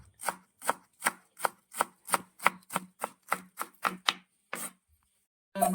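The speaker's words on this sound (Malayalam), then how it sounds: "ക്യാബേജ് നമുക്ക് ഇങ്ങനെ ഒന്ന് അരിഞ്ഞെടുക്കാം" A knife chops cabbage finely on a cutting board for vegetable fried rice, about fifteen crisp, evenly spaced strokes that ring out close and clear, then a brief pause before another sound.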